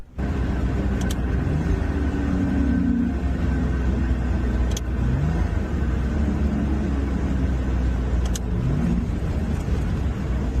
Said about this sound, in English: The downshift seemed pretty smooth.